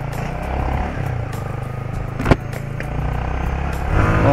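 Bajaj Pulsar NS 200 motorcycle riding in first and second gear, its engine droning steadily with a brief sharp clatter midway and rising again near the end.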